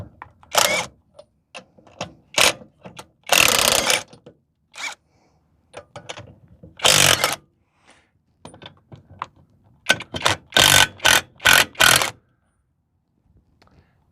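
A Revvstark 480 ft-lb impact wrench removing sealed lug nuts from a truck wheel: short, loud, rattling bursts of hammering, some grouped in quick runs, separated by quieter handling noises.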